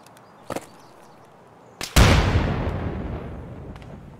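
Grenade explosions in the video game Escape from Tarkov: a sharp pop, then a second crack followed by a loud, booming blast that rumbles and slowly decays, heard alone without talk.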